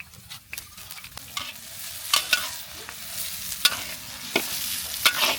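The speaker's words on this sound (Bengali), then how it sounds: "পেঁয়াজগুলো এভাবে নিয়ে হালকা বাদামি করে ভেজে নেব" Chopped onions fry in hot white cooking oil in a wok, a steady sizzle broken by repeated scraping and clacking stirs of a spatula, close and alone with no talking.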